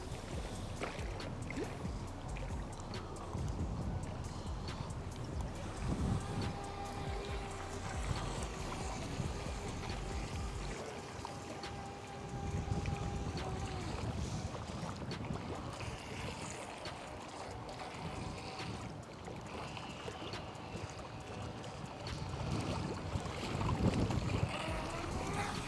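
A small motor hums steadily over water from a Volantex Vector 30 mini RC boat, with strong wind buffeting the microphone throughout; the engine pitch shifts slightly as it moves.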